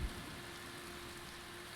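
Rain falling in the horror video game Dark Dreams makes a steady, even hiss of dense drops, quiet and continuous with no voices.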